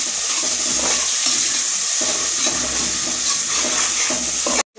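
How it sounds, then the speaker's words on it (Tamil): Tomatoes sautéing in a pan, a loud continuous sizzle with rhythmic stirring scrapes about every second, cutting off abruptly at the end. "தக்காளி சேர்த்து அது நல்லா வதங்கிட்டோம்."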